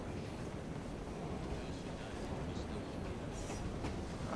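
A train rumbles steadily in Assassin's Creed Syndicate, a broad continuous roar of wheels and rushing wind at moderate, even loudness with no break.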